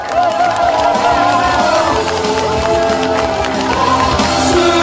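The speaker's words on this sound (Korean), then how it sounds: "큰 박수 부탁드립니다" A large crowd at a Sejong City election campaign rally cheers and applauds continuously, with shouts and whoops rising over steady clapping.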